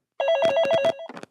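A telephone bell rings during a local baseball radio broadcast, a loud close trilling burst of about a second, ending with a shorter rattling ring fragment.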